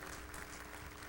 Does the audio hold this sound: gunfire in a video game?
no